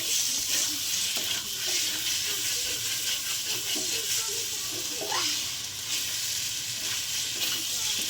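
Egg curry masala with softened potatoes and a pinch of garam masala sizzles and fries in a pan, a constant close hiss broken by occasional scraping stirs, with no talking.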